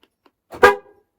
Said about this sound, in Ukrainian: звуковий сигнал у нас з'явився і працює